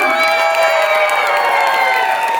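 Dense, loud crowd cheering with shouts and whoops from an audience after a dance performance, held at a steady level throughout without clear individual claps standing out.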